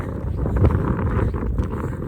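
Steady low rumbling wind buffets the microphone throughout, a continuous blustery roar with no voices.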